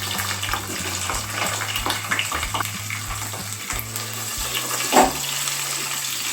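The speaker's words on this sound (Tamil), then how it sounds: "இப்போ நம்ம நறுக்கி வச்சிருக்கிற பெரிய வெங்காயத்தை வந்து ஆட் பண்ணிக்கலாம்." Chopped onions frying in ghee and oil in a kadai, a steady close sizzle with occasional stirring scrapes over soft background music.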